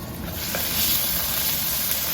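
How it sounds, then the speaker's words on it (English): Minced garlic gives a steady, even sizzling hiss in a hot pan, close by, with no voices over it. "We'll let this sizzle for probably just 10 to 15 seconds until fragrant"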